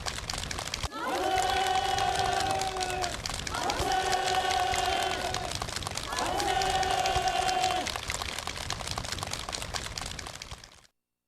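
A crowd at a ceremony in North Korea, where housing certificates are handed out, keeps up dense, sustained clapping under three long, rhythmic, chanted shouts from many voices, ending abruptly.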